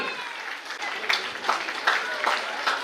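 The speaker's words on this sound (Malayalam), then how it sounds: "എല്ലാവരും ഒരു മികച്ച കയ്യടി കൊടുക്കാം കാർമൽ ഔസേപ്പിന്" An indoor Onam crowd at a church gathering applauds a lucky draw winner, a steady wash of many hands clapping, moderately loud and sustained without a break.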